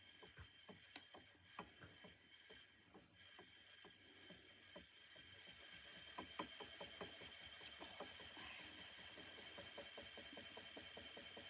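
An Autowinders spinning wheel spun by long draw gives a steady mechanical whir with rapid regular clicking pulses, growing slightly louder and denser partway through, with no talking.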